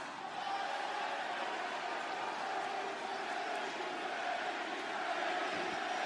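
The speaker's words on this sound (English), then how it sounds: "you can cheer for him all you want" Wrestling crowd in an arena making a distant, steady roar of cheering and chanting, faint and continuous with no breaks.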